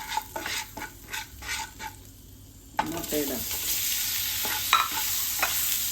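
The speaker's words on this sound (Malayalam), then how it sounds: "ഇതിലേക്ക് നമുക്ക് മുട്ട ഇട്ടിട്ട് ഫ്രൈ ആക്കണം" Eggs fry in a pan of spiced oil for egg biryani while a spoon stirs them, scraping and clinking at first, then a steady loud sizzle as the eggs hit the hot pan, close by.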